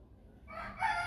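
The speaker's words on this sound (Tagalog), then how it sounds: "Tumutubag yung manok sa kabilang bahay eh." A rooster at a neighbouring house crows once, a single loud call that rises partway through the short clip over a quiet background.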